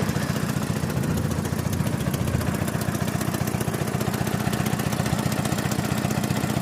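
Mini tractor engine converted to run on LPG gas, just after its first start, idling steadily with a close, loud, even rhythmic chug and no talk over it.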